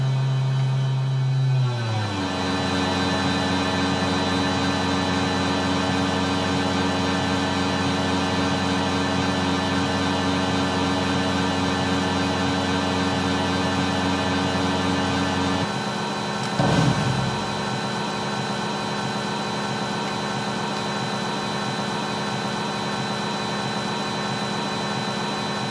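Steady whining jet engine drone from the Falcon 3.0 flight simulator game played on an old 486 PC, a constant tonal hum that shifts pitch early and changes character near the end.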